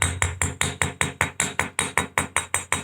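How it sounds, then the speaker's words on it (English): Rawhide mallet striking a wire earring loop on a bench block to work harden it, about fourteen sharp, evenly spaced taps in a quick steady rhythm, close and loud with no talking. "When I hammer this,"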